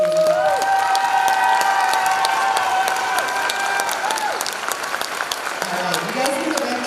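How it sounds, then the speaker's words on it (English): An audience claps continuously at a school band's spring concert, a dense, fairly loud patter of many hands. A sustained instrument tone hangs over the start, and a few voices rise near the end. "So one last round of applause."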